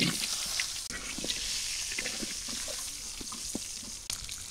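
Potatoes fry in hot oil in a wok, giving a steady, close sizzle with scattered crackles and pops and no voices.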